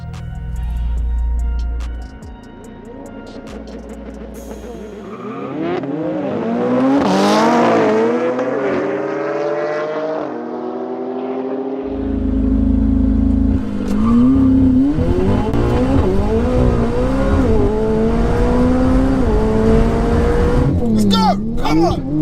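A supercharged 240-horsepower Kawasaki H2 superbike and a stage 2 tuned McLaren in a street drag race, engines revving loud and close, then screaming through rising gear pulls with a roaring pass, alongside excited voices.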